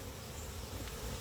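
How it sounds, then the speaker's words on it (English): Honeybees buzz inside a hive, a faint, steady drone with no voices over it. "See all those bees?"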